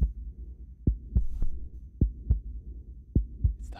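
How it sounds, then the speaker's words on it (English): Heartbeat sound effect for the board game Next Station: London, a steady series of paired low thumps, loud and close with a soft hum underneath and no talk. "the heartbeat. It's coming for you."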